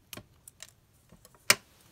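Scissors cutting down a paper tab, a few soft snips and clicks spaced irregularly, close and quiet, ending with one sharper cut.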